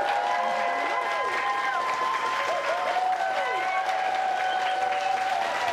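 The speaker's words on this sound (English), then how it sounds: "Big round of applause for Donna and the people of Swiss Haus." Studio audience applauding and cheering on a TV cooking show, a loud continuous wash of clapping with whoops and shouted voices riding over it.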